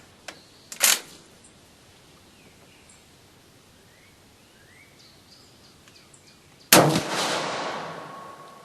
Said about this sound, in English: We're going to shoot at the lower target on that center 6 o'clock hold.